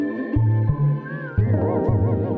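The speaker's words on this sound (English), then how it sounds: "go to this last option, vibrato. This is going to make your sample sound like this" Sampled instrument tone run through Ableton's Chorus-Ensemble in vibrato mode, a sustained chord with a pronounced wavering pitch wobble, plus a few separate low note hits, played alone and fairly loud.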